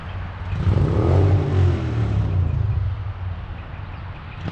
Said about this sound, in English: Got a wonderful motorcycle going in the background.